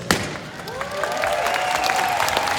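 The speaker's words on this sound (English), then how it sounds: "A bit of applause, please." A conference audience at KRUPA 2019 applauds after being asked to: steady, dense clapping fills the hall for a couple of seconds, with thin rising whistle-like tones over it.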